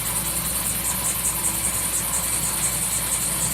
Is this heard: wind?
no